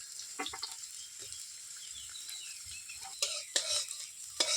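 Peas go into a sizzling pan for Maggi noodles and are stirred, giving a steady frying hiss with scraping stirs and louder clacks toward the end, close up and without talking.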